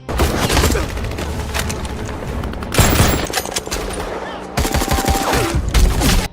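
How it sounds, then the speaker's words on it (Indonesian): Loud bursts of gunfire crackle and boom in rapid, dense volleys, continuous throughout with brief lulls, like a heavy firefight. "Sersan Abel terkena tembakan musuh lebih dulu."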